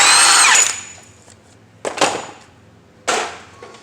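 A power tool zips off a 36 mm CV axle nut on an Acura RSX, a short loud whir at the start followed by two sharper bursts, separated by quiet pauses.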